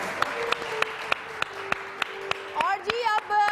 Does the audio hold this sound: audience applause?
yes